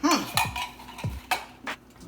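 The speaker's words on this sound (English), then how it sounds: "Once you put all this in, you're gonna make sure you stir it up" A spoon stirs a thick mac and cheese mixture made with two cans of cream of chicken, giving a few separate clinks and scrapes against the dish with quiet pauses between them, close and fairly soft.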